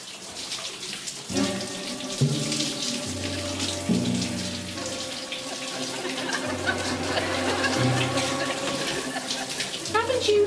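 Shower water runs steadily in a hotel bathroom, a constant close hiss of spray with tonal hums and thumps over it, and voices faintly mixed in.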